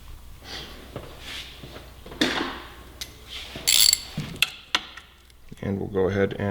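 A hand ratchet runs down the fasteners on a 2017 Yamaha R6 block off plate in a few short bursts of clicking, close up, with quiet pauses and handling noise between strokes.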